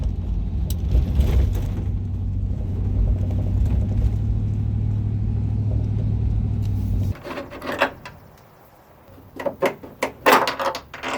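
A 1998 Chevy truck rumbles along the street with a steady low engine drone for about seven seconds. The drone then drops away into irregular clunks and rattles.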